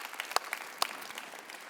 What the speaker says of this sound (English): big round of applause for Jody and Vladdy for the demos